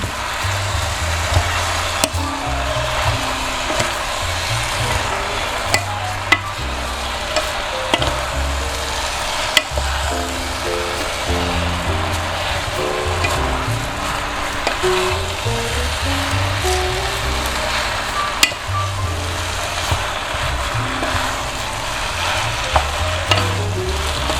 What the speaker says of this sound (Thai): ผัดก่อนนะคะ